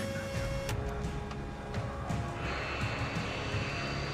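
An airliner of West Caribbean Airways, flight 708, sits at gate 28 during pushback, its engine whine a steady broadband roar throughout, with a brighter hiss rising partway through.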